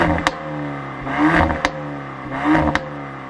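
A 2019 Renault Megane R.S. engine revs in two surging bursts, a throaty exhaust rising and falling, punctuated by sharp clicks.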